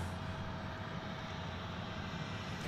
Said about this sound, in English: We've got a United plane coming our way